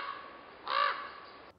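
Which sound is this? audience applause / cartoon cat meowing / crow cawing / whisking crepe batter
crow cawing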